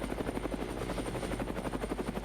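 Video game helicopter coming in to land, its rotor beating in a fast steady chop with a loud constant engine drone underneath, continuous and close throughout with no talking.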